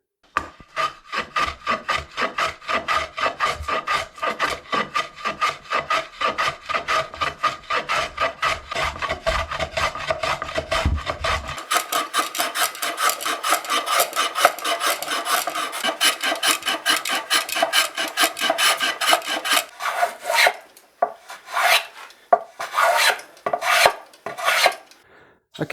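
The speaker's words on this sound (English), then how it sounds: "take this material away with a plane in straight line until we get down to that line there" A hand plane shaves soft wood from a Stratocaster guitar body in long straight passes: a steady run of rapid, rhythmic rasping strokes, close and loud throughout, then a few slower, separate strokes near the end.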